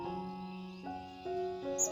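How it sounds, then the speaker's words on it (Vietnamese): A caged red-whiskered bulbul used as a decoy sings in a forest, giving a string of clear, fairly faint whistled phrases with short pauses between them and a higher chirp near the end. "Con mồi già nó đang hót rồi."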